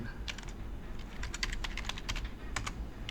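Quick, steady typing on a computer keyboard, with close, crisp key clicks in short runs over a low background hum.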